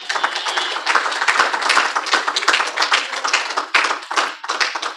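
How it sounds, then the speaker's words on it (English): A church congregation claps together as an offering of praise, a dense and sustained burst of many hands close by that keeps up for several seconds with a few brief dips, and no one speaks over it. "Give God a big clap of offering."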